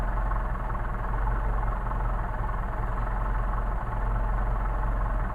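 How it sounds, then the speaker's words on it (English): Engine with a Solex carburetor idling low and cold on a test stand, a steady close rumbling putter with even low-pitched pulses, no voices. "even cold, we got a really nice low idle, and that's exceptionally low"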